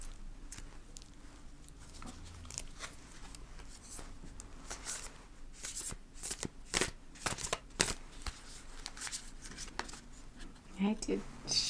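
Oracle deck cards being shuffled close up, a run of soft, crisp riffling and tapping bursts that grows busier and louder toward the end, quiet and intimate.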